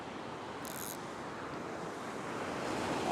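Surf rolls and breaks steadily on a fishing beach, a continuous close wash of waves with gusty wind buffeting the microphone and swelling slightly toward the end.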